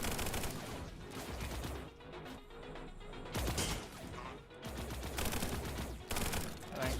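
Dense video game gunfire, continuous loud bursts of automatic shots with brief lulls, heavy and close throughout.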